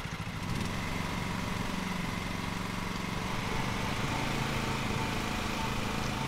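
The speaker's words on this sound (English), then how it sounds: "And we're gonna fire up our engine." A lawn mower engine idles in a mowing simulator game, a steady mid-pitched mechanical drone that runs evenly and moderately loud from start to finish after a brief quieter opening.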